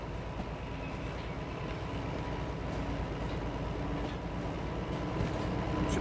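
Low, steady rumble of a train locomotive moving forward in the Derail Valley video game, a continuous mechanical drone with faint rhythmic clanks underneath and no voices.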